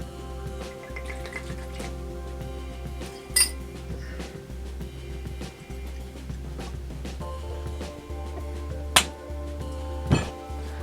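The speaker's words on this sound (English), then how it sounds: "I poured the first shot into my Infinity bottle. The second shot goes into my Wisdom glass." 2bar straight bourbon whiskey is poured in shots into a bottle and a glass, with faint trickling and a few sharp glass clinks standing out from a quiet room hum.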